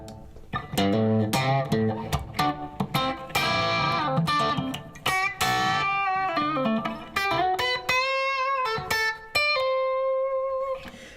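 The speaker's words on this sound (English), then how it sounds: "so what I'm going to do is make a shorter reverb." Electric guitar played through an effects unit with a short reverb, a run of picked notes and chords ending on sustained single notes, close and clear with no talking.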